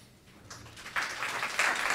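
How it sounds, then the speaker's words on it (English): Audience applause after a talk at a session on e-skills education and training, beginning faintly and swelling into steady, dense clapping from a room full of people, with no speech over it. "Big applause for him."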